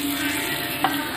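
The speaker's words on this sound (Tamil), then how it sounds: "நல்லா சம்பளை வறுத்துட்டோம்" Coconut sambal frying in a pan, a close, steady sizzle with a brief scrape of stirring, heard alone for about a second.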